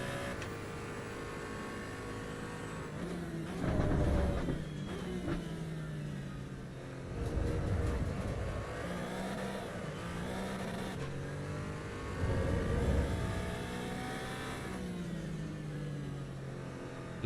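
A race car in the AC EVO racing game with its rear tyres spinning under power. The engine revs and shifts repeatedly in a strong, steady drone with rising harmonic sweeps and recurring louder surges, heard close.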